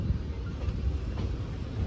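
The Simhadri Express passenger train running on the line near Pitapuram, a steady low rumble of the carriages with wind buffeting, heard from on board with no voices.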